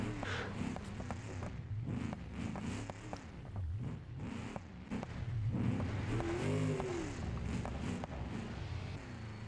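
Race car engine during a race, throttle blipping and revving in quick rises and falls, with downshift-like bursts, moderately loud and steady throughout.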